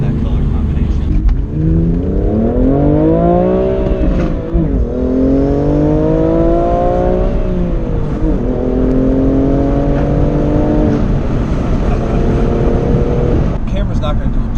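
A BMW M3 F80 Competition with an aftermarket exhaust drives along, its engine tone rising and falling through several gear changes in a steady, fairly subdued drone heard from inside the car.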